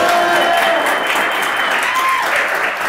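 Applause fills the room after a correct answer in a geography quiz game, steady dense clapping at full loudness for about three seconds with a faint crowd murmur and a few whistles.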